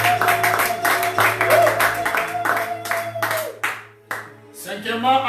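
A church congregation claps and applauds together in a dense burst that tapers off, with a voice speaking over it near the end.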